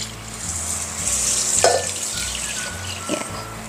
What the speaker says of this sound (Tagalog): the next ay maglagay tayo ng tubig